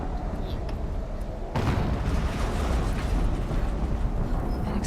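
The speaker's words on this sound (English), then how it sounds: "An explosion." A loud explosion in the video game Horizon Zero Dawn sets off a sudden broadband boom partway through, then a dense sustained rumble of debris and rolling noise over steady low game ambience.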